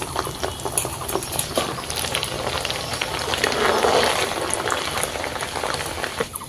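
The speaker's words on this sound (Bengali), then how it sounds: "তেলটা গরম হওয়ার পর কিছুটা ডাল দিয়ে দিচ্ছি ভেজে নেওয়ার জন্য।" Chickpea dal frying in hot white oil in a kadai, a steady bubbling sizzle that swells briefly in the middle, close and continuous with no talk.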